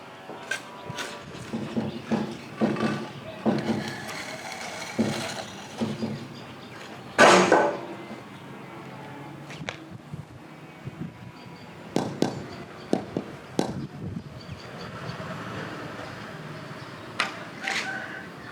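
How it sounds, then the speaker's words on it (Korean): Rubber mallet taps Q-CON wall blocks into place on a house build, giving scattered dull knocks in irregular bursts with one louder thud near the middle and quiet pauses between. "첫 단에 앞뒤 좌우 수평을 확인해서 고무망치로 정확한 위치를 찾아줍니다."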